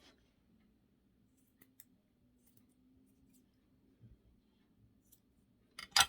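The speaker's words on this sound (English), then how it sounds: "I'm just gonna trim all these to like the same length" Scissors trim the yarn hair of a handmade Christmas craft gnome to an even length, with faint scattered snips and clicks ending in a sharper cut, close and quiet with no talk.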